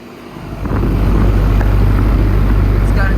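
A 2022 Ox Box air conditioner condenser with a Welling fan motor runs outdoors, giving a steady low hum and whooshing fan airflow that swells in the first second and then holds constant, with some wind buffeting.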